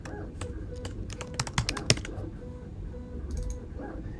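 Fingers type on a computer keyboard nearby, a run of quick irregular key clicks with a denser burst in the middle and a few scattered taps toward the end, with no voices.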